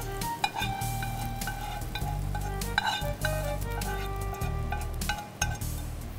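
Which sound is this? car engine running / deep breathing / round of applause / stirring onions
stirring onions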